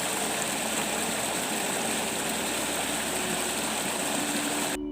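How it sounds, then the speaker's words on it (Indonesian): Water flows in a steady, loud rush, an unbroken hiss of running water filling the whole moment. "Atau cobalah ini, suara air mengalir."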